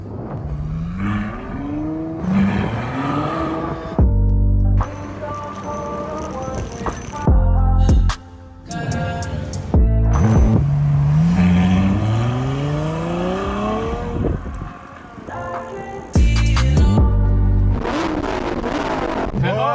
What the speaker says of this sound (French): Essaye de t'accrocher à la voiture.